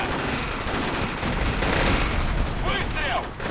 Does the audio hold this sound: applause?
no